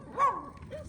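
A dog barks once, briefly, on a residential street in Edinburgh, fairly close and followed by a faint whine-like tail against light background noise.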